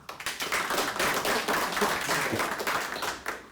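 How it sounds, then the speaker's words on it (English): Applause from a conference audience at a business technology talk, a lively patter of individual claps that swells, holds steadily, and tapers off at the end. "So give him a warm applause."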